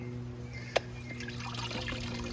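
Water trickles and drips out of a tilted pot of biological potting soil, a faint, intermittent wet dribble with one sharper drip, set over a low steady hum.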